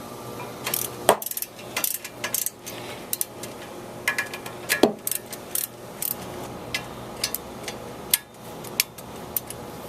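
A ratchet tightens bolts on the front brakes of a Ford Crown Victoria Police Interceptor, giving close, rapid clicking bursts in irregular runs with brief pauses between, and no talking.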